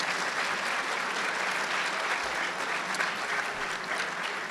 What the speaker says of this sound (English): How about a nice round of applause in memory of those amazing people?